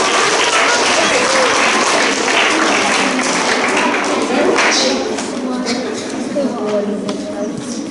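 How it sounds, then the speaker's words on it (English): A school assembly audience applauds during a Safer Internet assembly, with loud, dense clapping that sustains for several seconds and then eases off slightly. Scattered voices and crowd noise mix in under the clapping. "Let's give all of those people and everybody here a round of applause."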